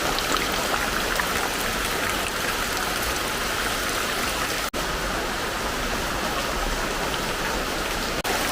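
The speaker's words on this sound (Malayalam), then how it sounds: "വൈകുന്നേരമായപ്പം മഴ തുടങ്ങി" Steady, dense rain falls without pause, a close, even rushing hiss with no voices.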